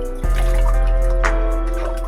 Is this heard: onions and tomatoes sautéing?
no